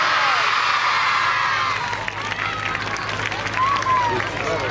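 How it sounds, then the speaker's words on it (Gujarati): Crowd applause rings out at an Independence Day flag-hoisting ceremony at a primary school in Bhavnagar, a dense burst of clapping mixed with cheering voices that eases slightly midway before swelling again. "આવો તાળીઓના ગુંજારોથી આ દિવ્ય ક્ષણને આપણે વધાવીએ."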